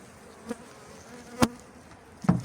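Honey bees fly around an opened hive during an inspection, with three short buzzing passes sweeping close past over a faint, constant background hum.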